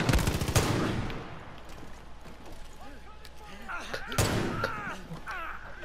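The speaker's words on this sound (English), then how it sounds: "I'm shooting you in the crotch." Gunfire in a Far Cry 5 arcade map, with a few loud close shots near the start and another burst later, mixed with game clatter while someone talks over it.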